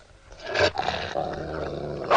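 A dog growls low and rough in a period drama scene, a continuous rumbling snarl that swells and dips, close and fairly loud, with no talking over it.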